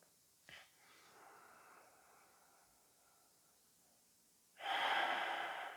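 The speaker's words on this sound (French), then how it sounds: "On inspire profondément et on expire par la bouche." A deep breath in and out through the mouth during a calm Ashtanga yoga session: a soft short intake, a long quiet stretch, then a louder airy exhale near the end.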